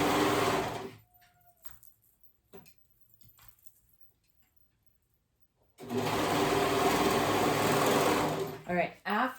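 A serger sewing machine stitches fabric in two loud, fast, whirring runs, the first about a second long and the second about four seconds, separated by a quiet gap with light handling sounds.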